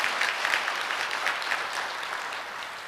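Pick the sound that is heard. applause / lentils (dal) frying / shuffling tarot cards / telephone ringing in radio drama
applause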